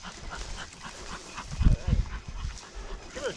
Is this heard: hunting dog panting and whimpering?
yes